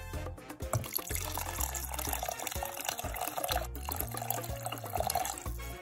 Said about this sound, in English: Then I'm going to add 4 cups of water.